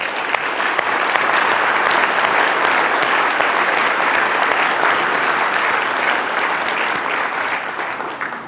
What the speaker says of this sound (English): take a brief moment and applaud them.